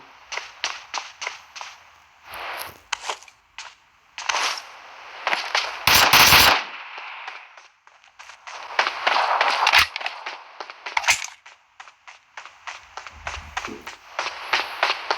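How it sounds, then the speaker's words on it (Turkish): Rapid bursts of PUBG Mobile gunfire crackle in quick volleys, with a few louder single cracks and a dense blast near the middle, all loud and close with no talking. "Girip sıkıyor ama boşu boşuna sıkıyor"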